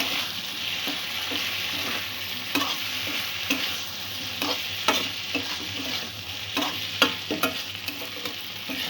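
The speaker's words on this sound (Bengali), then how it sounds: "মশলাগুলো একটু ভালো করে নাড়াচাড়া করে নেব" Ground cumin and coriander powder stirred into boiled potatoes in a hot pan: a steady low sizzle broken by repeated scraping stir strokes, close and fairly loud, with no voices.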